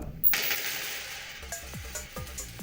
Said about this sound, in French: je lance les 4 pièces, comme ça